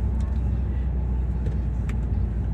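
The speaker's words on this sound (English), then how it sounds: "there's like cars in front of us because obviously on a road. Traffic." Steady road traffic surrounds a car on the move, a continuous low rumble of nearby cars that holds at an even level throughout with no other sounds standing out.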